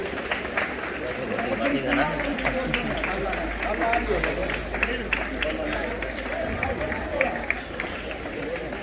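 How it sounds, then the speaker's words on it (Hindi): Dense, steady clapping from a school audience greeting the chief guest at a Republic Day function at a government senior secondary school in Hassanpur, continuing evenly throughout with crowd murmur and voices mixed in. "जोरदार तालियां हमारे मुख्य अतिथि महोदय के लिए।"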